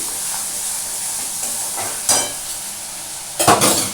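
Bottle gourd and shrimp curry stirred in a pan over raised heat, a steady soft sizzle with two louder scraping stirs of a utensil against the pan.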